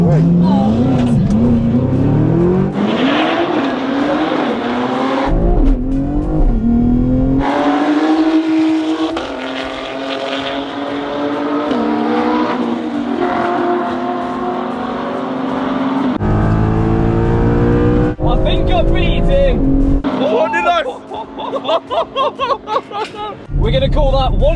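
A rebuilt BMW X3 M launching and racing against supercars: loud, sustained engine roar climbing through revs with gear changes, then a burst of choppy revving near the end, with people talking over it.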